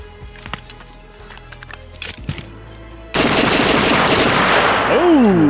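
Bulgarian AK-74 rifle, an Arsenal SLR-104, firing a loud, continuous close-range burst after a few seconds of scattered handling clicks and knocks, with the gunfire roaring on to the end.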